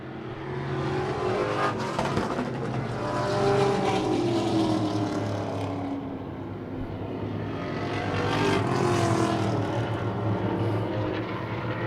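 Race car engines roar past on a short track during the closing laps of an expo race, two loud swelling passes with rising and falling pitch and no voices over them.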